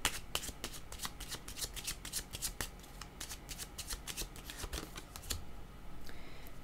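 Tarot cards shuffled by hand in a quiet room, a rapid run of crisp riffling flaps and slaps in close, uneven bursts that stop shortly before the end.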